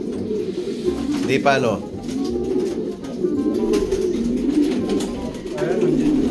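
Racing pigeons at a one-loft race coo steadily in a low, continuous warbling murmur close by, while people talk over the flock.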